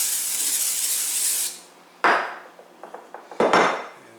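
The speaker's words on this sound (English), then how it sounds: "I'm going to grease mine with vegetable spray." A steady hiss of vegetable cooking spray greasing a bowl for about a second and a half, followed by a few clattering knocks and taps of the bowl being handled.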